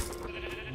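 A sheep bleats in the video game Minecraft Story Mode, a short steady bleat mixed into dense, loud game sound.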